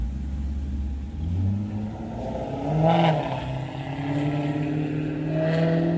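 Maserati engine revving in a residential street, a low rumbling exhaust that swells into a rise near the middle and then settles and climbs again, with a brief spoken voice.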